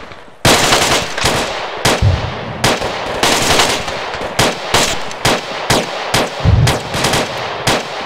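Bursts of automatic gunfire and single shots crack out repeatedly in a cooperative military shooter game, loud and close, sometimes overlapping with more distant fire.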